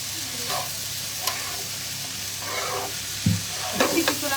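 Potatoes with bay leaves frying in hot oil in a home kitchen, a loud continuous sizzle with stirring scrapes and clinks, a few louder bursts near the end.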